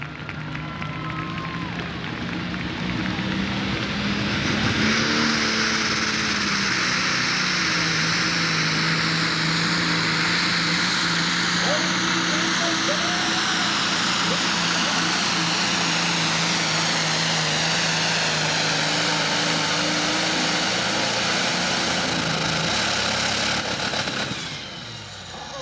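Super stock pulling tractor at a 1995 Bluegrass Pulling Series event in Madisonville, Kentucky, 6,000 lb class, engine roaring loud and sustained for over twenty seconds, with crowd noise and some talk beneath it.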